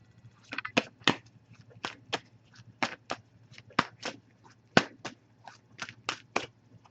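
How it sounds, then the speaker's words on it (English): Tarot cards are riffled and shuffled in a run of crisp, irregular flicks and snaps, close and fairly quiet against a low steady hum. "give this a few shuffles, then we'll cut the deck and pull a card"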